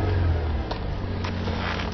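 A 2007 Nissan Quest 3.5S engine runs loud while cold, a steady, close, droning idle with a deep low rumble and no breaks.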